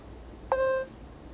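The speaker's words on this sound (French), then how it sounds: "son de notification par défaut" The default notification sound of an Mstar S700 smartphone plays as a single short electronic beep, a clear tone lasting about a third of a second. Quiet room noise surrounds it.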